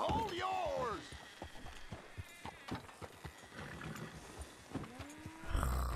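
A lion trapped in a barn in the Red Dead Redemption 2 video game gives deep roars and growls, mixed with in-game shouting and player talk over a busy, loud background.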